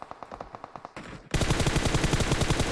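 Automatic gunfire in the mobile battle-royale game PUBG Mobile during an esports match: a distant rhythmic burst first, then a loud, rapid sustained spray of close shots.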